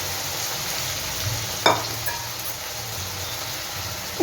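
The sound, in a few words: pumpkin paste frying in a pan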